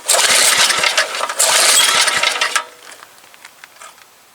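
A Troy-Bilt rototiller's small engine is cranked with the choke on, producing a loud sputtering burst of engine noise that cuts out after a few seconds into faint clicks and rattles.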